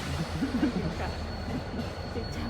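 A Korean electric train runs along the track with a steady low rumble and rattling car vibration, close by and continuous, with faint wheel noise throughout.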